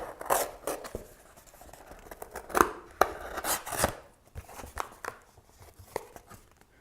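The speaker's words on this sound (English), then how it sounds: "at this point, we need to cut away the hinge between the front and the back of the spine." A blade cuts away the cardboard spine hinge of an old book cover, making close, uneven scraping and crunching strokes with sharper snaps in between, in a quiet room with no speech.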